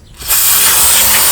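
Aerosol cleaner from a G2 caliper paint kit can sprays in one loud, steady hiss that starts after a short quiet moment and keeps going without a break to the end.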